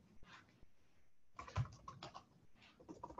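Faint typing on a computer keyboard in a quiet room, a few scattered bursts of quick clicking keystrokes with short pauses between them, no talk.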